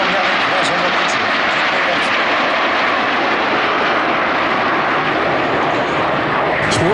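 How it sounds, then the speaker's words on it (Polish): SW-4 helicopters of a flight training unit pass over an air show in Radom, a loud, steady roar of rotors and engines that fills the whole stretch and drowns out everything else. "Śmigłowce SW-4 z 41. klasy lotnictwa szkolnego w Tęblinie."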